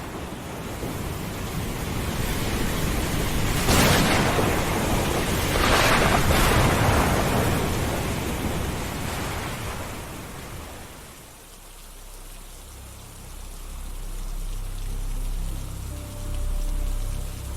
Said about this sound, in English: I went back to sleep as the thunderstorms grew louder.